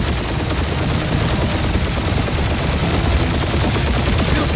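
Sustained automatic gunfire from the Guardians of the Galaxy video game, a dense, continuous barrage of rapid shots at steady loudness throughout, with no talking.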